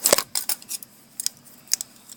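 Scissors picked up and handled at a craft table set with rubber bands and a plastic needle: a few sharp metallic clicks and snips, close, with quiet gaps between them.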